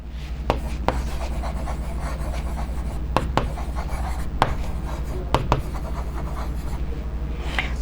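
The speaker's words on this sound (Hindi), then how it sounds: "तो देखिए इसका एक एग्जाम्पल लिखती हूँ मैं।" Chalk or marker strokes on a classroom board mark out an English grammar example in short scratchy bursts, with pauses between words, over a constant low hum.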